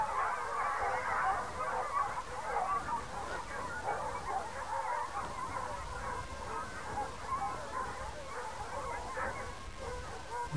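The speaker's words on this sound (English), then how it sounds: "Hounds in hot pursuit." A pack of fell hounds in full cry chasing a fox through bracken on a hunt, their baying and yelping steady and continuous, heard from a middle distance with outdoor ambience.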